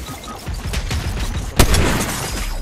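A sniper rifle fires in a Fortnite match, one sharp crack standing out over a busy layer of game noise and scattered lesser pops.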